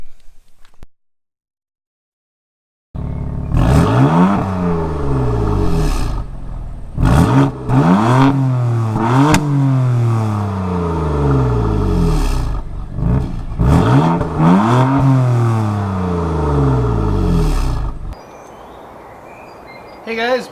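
Modified Honda Accord sedan, rigged to imitate a BMW M3 F80, revving hard several times in a row, each rising roar dropping away before the next, loud and close with no talk over it.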